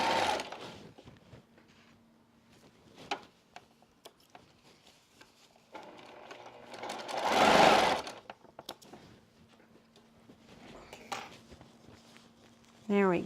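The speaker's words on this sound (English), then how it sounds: "The little feet on your sewing machine will sometimes slip on these blocks" A sewing machine stitches a quilt block in short bursts, with a denser run of rapid stitching in the middle, set against quiet pauses and a faint steady hum.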